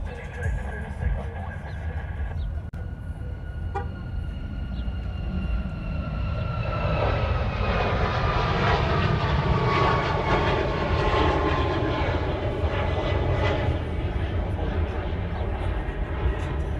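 A Southwest airliner takes off at Honolulu airport, its engine roar building into a loud, sustained broadband rumble with a rising whine, heard close and steady throughout with faint radio chatter early on.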